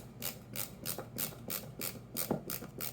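A Megapro ratchet screwdriver turning a screw gives off a steady run of close, sharp ratcheting clicks, evenly spaced about three per second, with faint scraping underneath.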